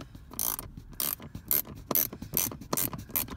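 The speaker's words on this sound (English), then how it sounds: "I love this little ratchet, little Facom ratchet. It's got a really, really fine tooth on it." Fine-tooth Facom ratchet being worked on a VW Transporter, giving about seven quick bursts of rapid, close clicking in a steady back-and-forth rhythm.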